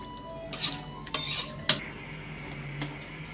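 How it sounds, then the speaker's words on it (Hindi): A spoon scrapes and clinks against a metal pressure cooker in a few quick bursts while turnip and meat curry is stirred, with quiet pauses between. "मिक्स कर दूंगी अच्छे से।"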